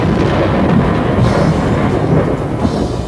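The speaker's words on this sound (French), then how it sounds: "On lance en direction du nuage une petite fusée reliée au sol par un fil métallique" A small rocket launched toward a storm cloud to trigger lightning, trailing a metal wire tied to the ground, heard as a loud continuous roaring rumble that holds steady throughout.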